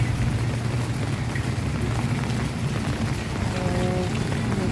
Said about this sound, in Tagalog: Makusog na ulan.